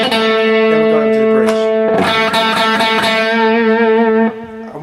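Electric guitar through its bridge humbucker pickup with heavy distortion, sustained chords ringing loud and thick, with a few strummed changes and a drop in level at the end.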